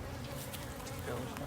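Honeybees hum in a dense, steady buzz around hive frames lifted during a 4-H beekeeping inspection, up close and continuous, with faint handling noises mixed in.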